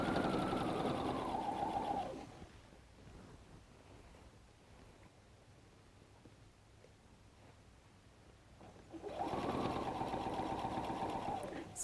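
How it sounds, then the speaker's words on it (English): A sewing machine whirs close by while sewing the side seam of a messenger bag pocket, running in two loud bursts separated by a long quiet pause with no voices. "now we'll go sew the other side of the pocket"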